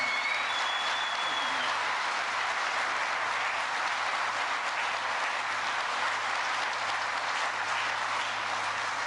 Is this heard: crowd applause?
yes